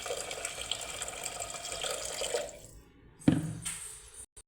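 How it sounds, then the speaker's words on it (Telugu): Water pours into a pressure cooker holding a spiced spinach rice mixture: a steady, close rushing stream for about two and a half seconds, then quieter, with a brief splash near the end. "వాటర్ పోసుకోవాలి."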